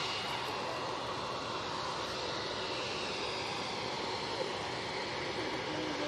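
British Airways airliner at Manchester Airport, heard as a steady, distant broadband jet roar that holds evenly throughout at moderate level.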